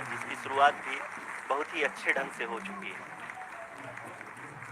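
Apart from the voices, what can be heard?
applause in control room during lunar landing broadcast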